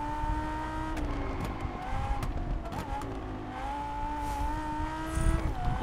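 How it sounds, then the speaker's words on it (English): Racing car engine in Test Drive Unlimited Solar Crown on PS5, a steady high-revving tone that rises and shifts through gears with brief tire squeals, loud and continuous with no talk. "Love the car sounds."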